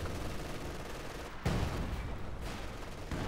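Machine gun and battle fire rattle in Company of Heroes 2, a dense, continuous wash of gunfire with a heavier burst about halfway through and no voices.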